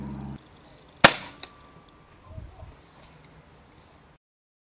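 A Smith & Wesson 586 air pistol fires a 7.9 grain Rangemaster pellet over a chronograph, giving one sharp, loud crack with a brief follow-up snap, then quiet room noise.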